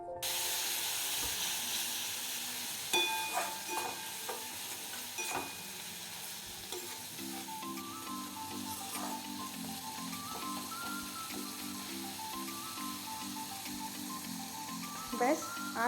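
Ground cumin and other spices fry with a splash of water in a pan for khichuri, giving a steady soft sizzle and occasional stirring taps throughout, with background music underneath.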